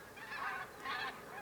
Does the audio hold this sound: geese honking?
yes